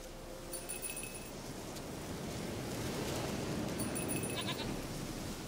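Goat bleats in The Witcher 3, faint calls over a steady wash of ambient noise, a short bleat early and another pair near the end.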